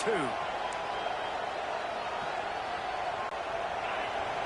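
A constant crowd roar fills a stadium in an American football video game, a broad steady wash of distant voices with no break, like a packed arena.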